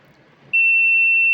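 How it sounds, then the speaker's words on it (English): A water leakage detection system for lifts sounds a steady electronic buzzer tone that starts abruptly and holds continuously, loud and close. "And there will be a continuous buzzer,"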